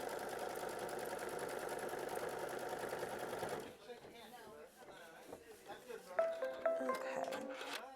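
A sewing machine stitching down a fabric strip, a loud rapid mechanical whir for several seconds that then stops, followed by someone talking with light handling sounds.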